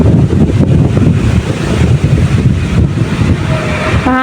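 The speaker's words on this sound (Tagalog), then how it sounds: "Mahangin po dito." Strong gusty wind buffets the microphone outdoors, a loud, rumbling roar that surges and eases unevenly for several seconds, with a faint tonal sound near the end.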